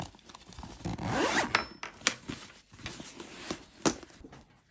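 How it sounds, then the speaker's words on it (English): A zipper on a handmade fabric shoulder bag is pulled closed in several quick rasping runs, close and fairly loud, with short pauses and soft fabric handling between the strokes and no speech. "I'm gonna zip it up just because I'm really excited to zip it."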